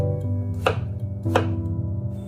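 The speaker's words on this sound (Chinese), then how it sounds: "再改刀把它切成小块，把丝瓜切成滚刀块就可以了" A knife cuts sponge gourd into chunks on a board, with two distinct chopping strikes about half a second apart over a steady background hum.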